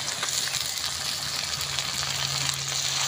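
Chopped tomato with ginger-garlic paste sautéing in a hot pan, a continuous close sizzle and crackle of frying with a faint scrape of stirring, steady and fairly loud.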